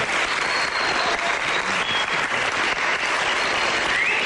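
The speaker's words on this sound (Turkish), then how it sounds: "Alkışlayalım Doruk Ülgen'i." A studio audience applauds a magician who has just won an award, with steady, loud clapping filling the whole stretch without a break.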